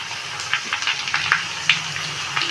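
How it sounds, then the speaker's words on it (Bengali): Boiled potato and roasted tomato sizzling in hot oil with fried onion, frying steadily in a pan with a bright hiss and scattered small pops and crackles, close and moderately loud, no talk. "এখন সিদ্ধ আলু আর পোড়ানো টমেটোটাকে এর মধ্যে দিয়ে দেবো"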